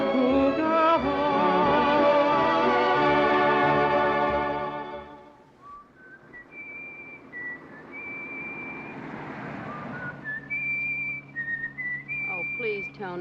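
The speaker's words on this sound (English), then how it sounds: "whistle something else" A person whistles a slow, sustained melody up close and loud for about five seconds, then fainter whistled phrases continue over a quieter background.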